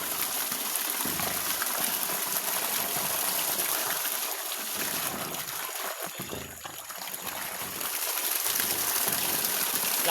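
Strong, steady rush of water flows by gravity from a small dam into an overflow, a continuous close trickling gush with slight swells and no talk.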